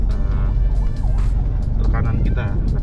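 A Mitsubishi Pajero, recently repaired after bodywork from fire damage, arrives with a close, rumbling engine beneath busy background noise and what sounds like voices.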